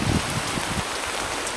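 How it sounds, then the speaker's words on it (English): Steady rain falls in the Irish countryside, a soft even patter on surfaces with no voices, heard briefly at low volume. "but it's raining."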